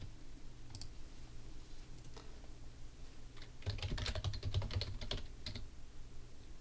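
Keys clacking on a computer keyboard, a few scattered taps at first, then a quick, dense burst of typing in the middle before trailing off into a couple of isolated strokes, close and fairly quiet.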